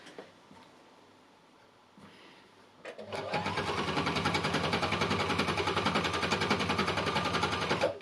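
Home sewing machine stitching thin, sheer organza-like fabric: after a few quiet handling sounds, the motor starts and runs in a fast, even, loud mechanical whirr with rapid needle clatter for about five seconds.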